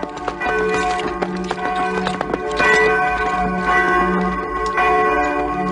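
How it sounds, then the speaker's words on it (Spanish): Church bells of San Pedro toll repeatedly in a resonant, ringing peal, with overlapping strikes and long humming decays filling the clip, accompanied by faint rhythmic clip-clop-like knocks. "Tañen las campanas en San Pedro a clamor"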